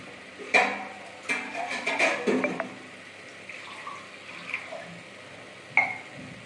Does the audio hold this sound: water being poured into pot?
yes